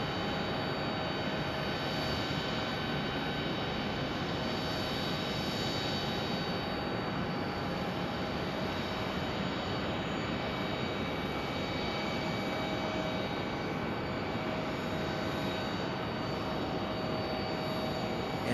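A jet airliner, an American Airlines A320 at Phoenix Sky Harbor airport, gives a steady, broad engine roar with a constant high whine, holding an even level throughout with no voices.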